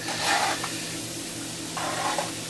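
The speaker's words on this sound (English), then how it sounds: "so you kind of stir this around a little bit" A sodium acetate solution for hot ice is stirred in a container, giving soft scraping swirls with a steady faint hiss underneath, two brief bursts of stirring separated by a quieter pause, with no talking.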